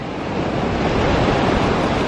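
Ocean waves breaking on a beach make a steady, loud wash of surf that swells slightly and never lets up, with a little wind rumble underneath and no voices.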